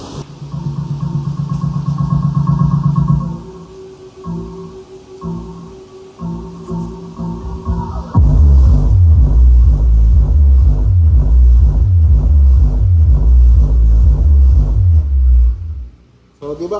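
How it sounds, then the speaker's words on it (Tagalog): Deep, booming subwoofer bass thumps in a steady pulse, heavy and loud, after a stretch of quieter mixed tones. "tutunog na rin yung subwoofer."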